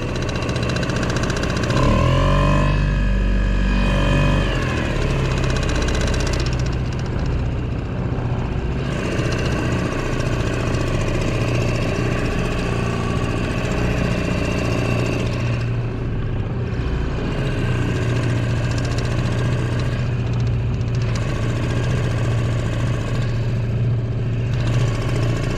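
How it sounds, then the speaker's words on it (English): A small motor on a Jonny Boat fishing kayak idles steadily at sea as it warms up, a continuous close low drone that lasts throughout with slight shifts in pitch. "So what we're doing right now is basically just focusing on getting the engine warm."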